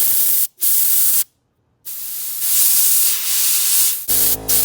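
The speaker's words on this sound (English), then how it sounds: "I'm feeling the air come out." Air hisses steadily out of an OMC dual line pressure tank for an outboard motor, a close, broadband rush broken by a few brief cutoffs and a longer silent gap, with a low rumble near the end.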